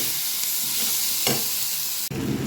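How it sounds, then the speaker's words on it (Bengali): Tomatoes with a little salt frying in a pan for mixed vegetable dal, a loud continuous close sizzle and hiss with a brief stir-like break near the end. "আর এখন আমি দিয়ে নেব টমেটো দুটো।"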